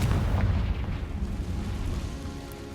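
A Confringo fire spell in Hogwarts Legacy explodes in a deep, rumbling boom that rolls on and slowly fades over a few seconds.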